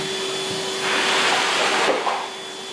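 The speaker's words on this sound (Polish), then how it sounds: "Natala, proszę, odkurzacz." A vacuum cleaner runs steadily at close range, its motor whine holding level and swelling louder partway through, with no talking over it.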